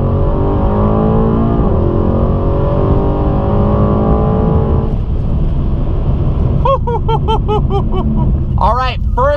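Tuned Mercedes-AMG E63S launching hard from a standstill, the engine roaring loudly as it winds up through rising revs, with a brief dip at a gear change before pulling again, while people talk and exclaim over the noise inside the car.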